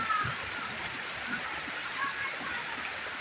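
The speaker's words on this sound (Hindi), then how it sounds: "और अभी भी बरसात तगड़ी से हो रही है।" Heavy rain pours down on a flooded village road, a steady dense hiss of falling water and splashing that continues evenly throughout, with no talking.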